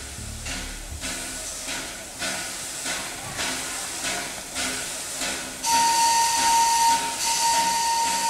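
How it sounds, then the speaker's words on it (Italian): A historic steam locomotive with its tender, carrying coal and water, gives off loud continuous hissing steam with rhythmic chuffing pulses, then a sustained steam whistle joins near the end. "Ecco la macchina a vapore che trainò il primo convoglio con il tender"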